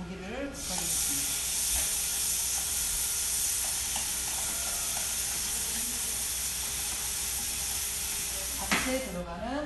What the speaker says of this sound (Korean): 채썰어서 양념한 고기를 볶아주겠습니다